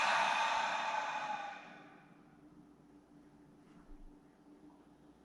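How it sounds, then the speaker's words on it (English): A deep open-mouth exhale during a yin yoga breathing exercise, a long airy breath out that starts loud and close and fades over about two seconds into quiet room tone. "And then an open mouth exhale."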